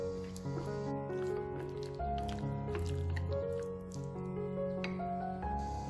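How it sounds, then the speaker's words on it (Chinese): Chicken wings are stirred by hand into a batter of flour and water, giving soft wet squishing and dripping sounds that sit under steady background music for the whole stretch. "加入50克面粉，20克清水，"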